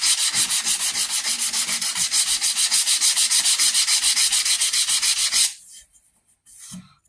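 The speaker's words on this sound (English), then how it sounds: "because I'm sanding with the grain" Rhythmic back-and-forth sanding along the grain of a wooden rifle stock for a .50 caliber St. Louis Hawken, loud steady strokes for about five seconds, then stopping with a brief faint scrape afterward.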